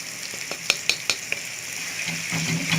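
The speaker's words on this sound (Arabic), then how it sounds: "هنقلبهم برضو مع بعض، هنقلبهم حبة في الزيت كده" Garlic, onion and peppers frying in oil for Alexandrian sausage, a soft sizzle with a few sharp utensil clinks against the pan early on, then a steadier frying hiss.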